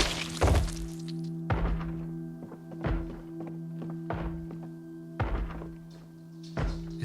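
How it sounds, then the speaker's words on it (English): A video game zombie bangs its head against something in a house, giving a series of dull thunks at irregular intervals over a low steady hum, fairly quiet. "You're just banging your head."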